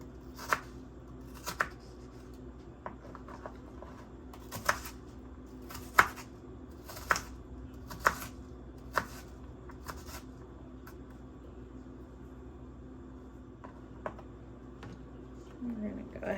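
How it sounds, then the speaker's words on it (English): A knife chops through stacked onion pieces for pico de gallo, giving sharp, separate strikes against a board roughly once a second, spaced unevenly over a quiet kitchen background. "I just kind of stack them, and I just start chopping them."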